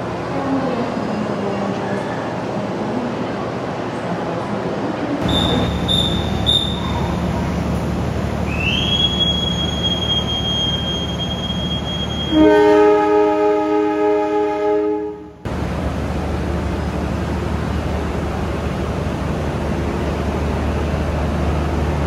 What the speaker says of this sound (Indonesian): Bersamaan dengan kedatangan kereta Sancaka, ini adalah kereta komuter lain